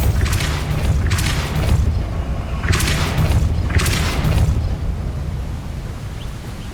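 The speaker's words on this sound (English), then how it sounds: "Bombarda!" Repeated deep booming blasts from Bombarda explosion spells cast in the Hogwarts Legacy video game, four loud bursts spaced about a second apart over a low rumbling game backdrop.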